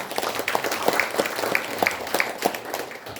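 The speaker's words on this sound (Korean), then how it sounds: "이병헌 수석 부위원장님께 격려의 박수 다시 한번 부탁드립니다" Applause from an audience at a Korean political launch ceremony, honoring a senior vice-chair. Steady clapping runs throughout at moderate level, with sharper individual claps standing out.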